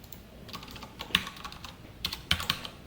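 Keys clack on a computer keyboard in short bursts of several quick strokes with brief pauses, close and fairly quiet.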